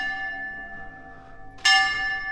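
Church bell in an old town in Abruzzo, Italy, striking the hour with sustained ringing tones, then a louder, brighter strike near the end.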